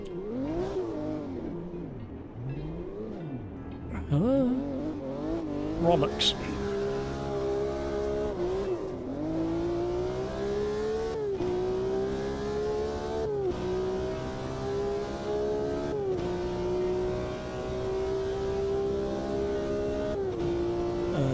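Car engine in a sim racing game revving continuously and loudly, pitch rising and dipping with gear shifts and throttle, a short spoken exclamation over it.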